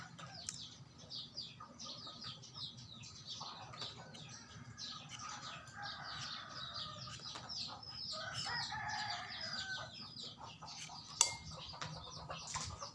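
Chickens cluck and a rooster crows in an outdoor rural Thai setting, with scattered calls at a moderate distance over a soft background of clinking dishes and utensils, without any talking.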